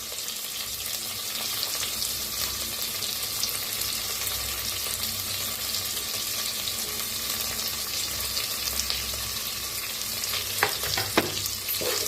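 Green chillies, peanuts, cashews and ground masala paste roast in a pan with a soft, continuous sizzle and stirring scrapes. A few sharper clinks come near the end, and no one talks.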